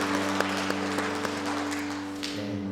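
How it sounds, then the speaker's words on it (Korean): Congregation applause during a Sunday morning church service, soft scattered clapping over a steady sustained tonal hum, with a few sharper individual claps standing out before it thins near the end. "우리 위로와 격려의 박수가 할까요?"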